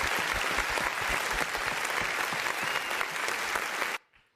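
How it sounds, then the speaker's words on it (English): An audience applauds steadily for about four seconds, a dense, even clatter of many hands, loud and close, then it stops abruptly. "Give him a round of applause, y'all."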